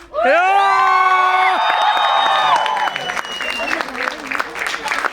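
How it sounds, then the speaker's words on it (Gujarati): A Gujarati movie team is welcomed at a PVR cinema in Thaltej, Ahmedabad, with loud audience clapping mixed with high whoops and cheers, while voices shout over the din. "તાળીઓથી સ્વાગત"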